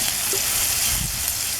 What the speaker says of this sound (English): we're going to add the garlic now. Stir that in there.